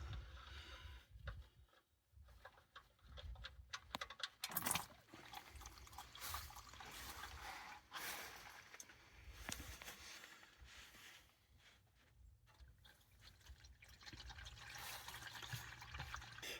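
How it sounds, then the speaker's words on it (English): Engine oil drains from a 2016 Nissan Frontier Pro-4X into a pan, a steady close trickle and pour of liquid that runs throughout with small shifts in flow. "I just drain the oil out of it"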